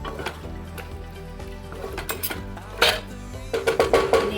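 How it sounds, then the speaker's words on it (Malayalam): A spoon stirring Kerala aviyal with a little oil in a pot, with scraping and clinking against metal that grows louder near the end, with no voices. "ഗ്യാസ് ഓഫ് ചെയ്ത് ഇറക്കുന്നതിന് മുന്നേ അല്പം എണ്ണ കൂടെ ചേർത്ത് നമുക്കിത് നന്നായി ഇളക്കി"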